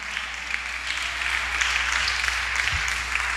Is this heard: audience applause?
yes